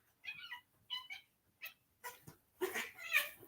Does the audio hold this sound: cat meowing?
yes